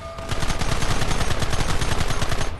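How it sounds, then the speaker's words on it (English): Rapid continuous gunfire from many weapons in the video game Red Dead Redemption, a dense, loud barrage of rhythmic shots with no pauses. "Fire at will!"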